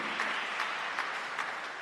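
A congregation at a midday Catholic Mass applauds, a dense, even roll of many hands clapping at moderate distance, steady throughout with no voices rising above it.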